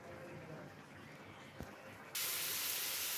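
Mango frying in a wok for tomato chutney hisses softly and steadily, with one small knock, then suddenly swells into a loud, bright, close sizzle.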